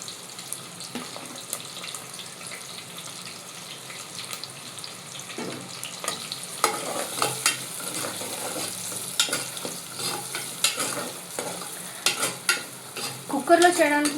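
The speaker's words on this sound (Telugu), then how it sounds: "నేను కట్ చేసుకున్న ఆనియన్ ఇంకా గ్రీన్ చిల్లీస్ 2 వేసేస్తున్నాను" Chopped onion and green chillies fry in a pan with a soft sizzle, broken by stirring clatter and scraping that grows busier and louder toward the end.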